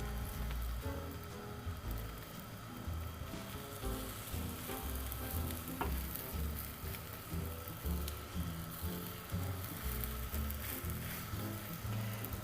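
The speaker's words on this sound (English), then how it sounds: "I'm going to try and roll up my first layer." Thin tamagoyaki egg layers sizzle loudly and steadily in an oiled pan as the omelet is rolled, a dense close crackle with occasional scraping taps.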